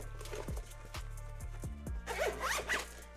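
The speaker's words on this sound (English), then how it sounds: "and zip it up and have a solid case" Zipper closing a Skull & Co carrying case for a ROG Ally X handheld, with several short separate pulls followed by a longer run of quick zipping, close and fairly quiet.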